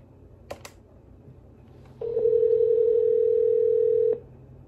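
Telephone dial tone on a home FreePBX phone system, sounding as a steady loud continuous tone for about two seconds after a couple of brief keypad clicks, used to call a home security system.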